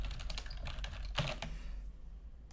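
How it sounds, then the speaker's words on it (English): Rapid clacking keystrokes on a computer keyboard during a live stream, a close burst of uneven taps with one louder strike, then fading to quiet near the end. "Is my keyboard really that loud?"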